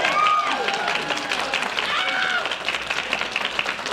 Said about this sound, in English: Please clap, yes.